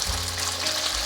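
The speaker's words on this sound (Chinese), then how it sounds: "把豆干放进来煎。" Pieces of dried tofu pan-frying in a little oil give a steady, close, dense sizzle and hiss that runs unbroken throughout, with no voices.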